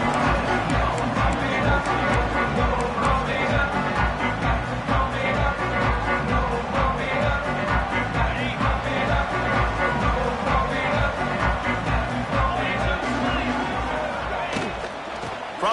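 Home stadium crowd at an Arizona State versus Tennessee football game, a loud, steady roar filling the space throughout with scattered claps and shouts, easing slightly at the very end.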